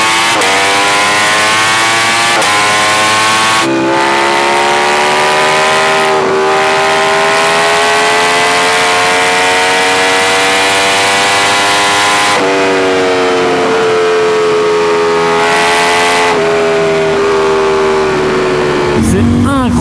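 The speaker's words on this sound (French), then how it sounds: "Et le bruit du shifter quand on passe les vitesses, j'espère qu'il est bien enregistré parce qu'il est complètement fou." A Ducati Panigale V4 motorcycle screams loud and close at high revs on the autobahn, its pitch climbing through each gear with sharp, abrupt cuts as the quickshifter snaps through upshifts, with no talking.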